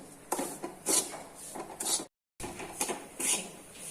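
Semolina roasting in homemade ghee in a pan is stirred with repeated rasping scrapes against the metal, a rhythmic close-up rubbing with one short silent gap and no talking.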